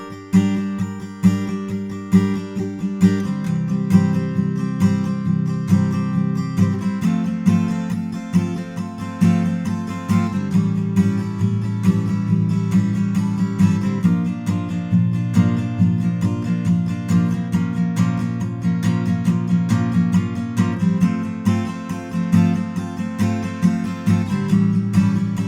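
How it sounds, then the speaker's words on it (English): Steady 16th-note guitar strumming of a song's chorus, dense and continuous chord strokes at an even driving rhythm with a few chord changes, loud and close with no voice. "So it's a 16th note strumming pattern."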